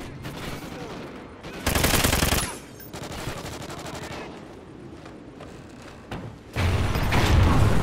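Automatic gunfire in the video game Call of Duty Ghosts comes in loud rapid bursts, one near the two-second mark and a longer one at the end, with quieter game noise between them.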